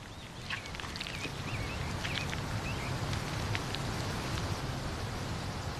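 Soft, steady rain patters over an open landscape, with a few birds chirping faintly in the background.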